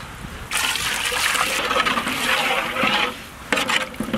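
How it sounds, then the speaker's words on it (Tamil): Water poured into a brinjal curry in a pan, a steady trickling and splashing pour lasting a few seconds, close and fairly loud, with a brief renewed splash near the end. "குழம்புக்குன்னு கொஞ்சம் தண்ணி ஊற்றிக்கலாம்."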